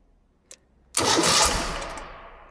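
A 2013 Ural Gear Up sidecar motorcycle starts after a faint click of the starter, then bursts into a loud, rough running rumble that settles and eases slightly as it idles, close by.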